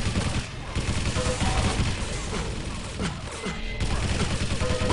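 Rapid weapon fire from a plasma gun in a Quake Live team deathmatch, dense bursts of gunfire and impacts continuing steadily throughout with chaotic game effects, no voices on top.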